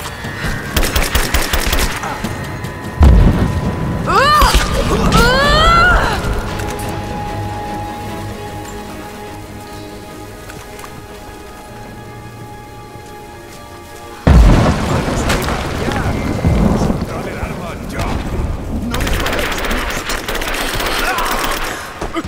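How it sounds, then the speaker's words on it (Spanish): Gunfire and explosions in the video game Rise of the Tomb Raider, with two heavy booming blasts followed by rattling bursts of shots and fading rumble, loud and close. "Estamos recibiendo disparos."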